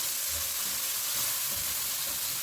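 Chopped onion sizzles in oil in a pan over medium heat, a steady close crackle and hiss that runs unbroken with no talk.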